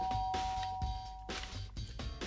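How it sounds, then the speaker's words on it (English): A doorbell pressed in the Danganronpa video game rings in a few distinct chime-like tones, moderately loud, each followed by a brief thud-like accent, with no talk. "I press the doorbell."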